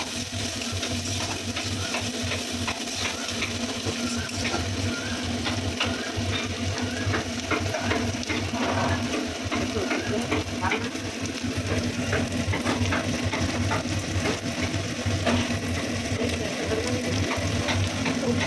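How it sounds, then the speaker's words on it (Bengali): Green beans, with a few bits of carrot, fry in a kadai, giving a steady soft sizzle dotted with small clicks and scrapes of stirring that go on throughout. "এখন বিনসটা দিয়ে সুন্দর করে নাড়িয়ে বিনসগুলো ভেজে নেবো"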